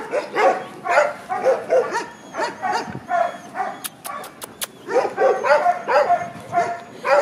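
A friendly medium-sized dog, about 50 cm tall, barks and yips in quick rhythmic bursts close by during an outdoor run, with a short pause midway and a few sharp clicks.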